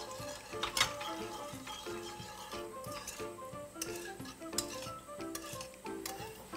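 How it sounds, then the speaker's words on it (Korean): A spoon stirs a Korean seasoning sauce with two tablespoons of sugar in a bowl, making a steady series of close clinks and scrapes against the bowl. "그리고 설탕 2큰술. 잘 섞어주세요."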